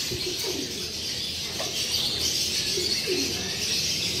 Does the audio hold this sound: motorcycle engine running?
no